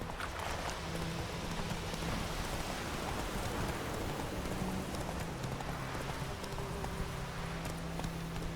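Horse hooves walk in a steady, soft clip-clop in The Witcher 3 video game, set against a constant hiss of rain and quiet ambience.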